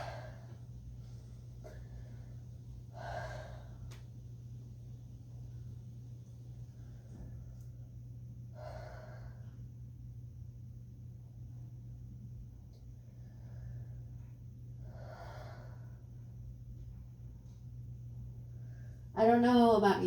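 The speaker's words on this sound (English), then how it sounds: "take a few deep breaths" Slow, deep breathing during a relaxing yoga session, five soft inhale-exhale sounds spaced a few seconds apart over a low steady hum, with a brief voice at the end.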